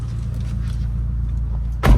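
A Nissan Altima's door thuds shut with a single solid clunk near the end, after a quiet stretch of low interior hum.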